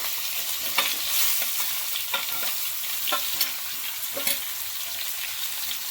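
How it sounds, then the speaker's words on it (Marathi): Brinjal pieces hitting hot oil tempered with cumin and curry leaves for Maharashtrian khara vanga, a steady close sizzle with scattered stirring scrapes and clicks, no voices. "आता हे वांगी टाकून घ्यायची"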